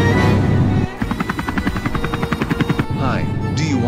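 A helicopter flying in a video game makes a rhythmic, pulsing chop that beats steadily for a couple of seconds. Other game sounds surround it.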